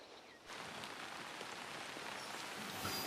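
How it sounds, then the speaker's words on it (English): Steady rainfall in the video game Assassin's Creed Shadows patters densely on surfaces. A quieter first half-second gives way to an even, continuous rain wash with scattered droplet ticks and no voices. "Oh, it was raining."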